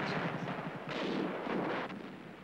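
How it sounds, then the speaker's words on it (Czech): Detonation blasts in a staged theatre war sequence, a rapid run of heavy, muffled booms and rumbling bursts, loud and continuous, with a second cluster of louder blasts midway. "Detonace."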